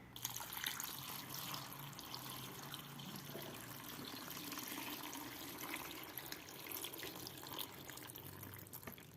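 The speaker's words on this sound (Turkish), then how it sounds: "Yarısını da normal suyla dolduruyorum." Tap water pours steadily into a plastic drum being filled for mixed pickles, a continuous close splashing rush of running water with no talking.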